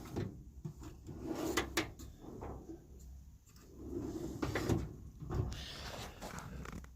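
Metal drawers on a US Pro 40-inch side locker tool cabinet are pulled open and pushed shut several times, giving repeated sliding rumbles and clunks with no talk.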